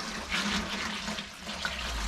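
Pan of water poured into a home brew setup in a garden shed bar, a fairly close splashing gush of liquid that runs steadily for about two seconds with no talk.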